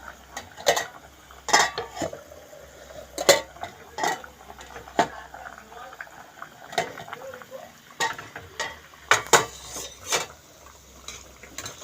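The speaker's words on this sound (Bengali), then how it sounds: "ঢাকনাটা খুলে দেখি কদ্দুর কী হলো" Metal clatter of a pot lid being lifted off a cooking pot of light fish curry in a home kitchen, with several sharp clanks and scrapes spread across the clip.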